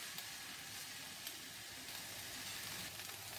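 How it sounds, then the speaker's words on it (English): Steady, continuous sizzling of chicken and vegetables stir frying in a hot pan, with no talking. "the chicken and the vegetables have been stir frying for a few minutes"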